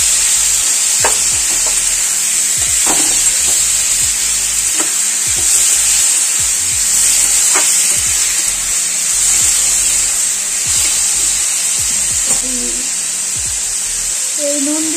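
Boiled bottle gourd fries loudly in a hot pan for calabash curry, a strong steady sizzle with repeated scraping knocks of a spatula stirring at irregular intervals, close up and without speech.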